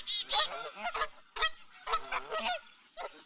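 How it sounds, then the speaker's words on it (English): Giant Canada geese at a waterfowl park honk loudly in repeated bursts, several birds calling close by in uneven clusters with short pauses between. "Under the gentle guidance of Bill Carrick, Courtwright Waterfowl Park has been a major breeding station for giant Canadas"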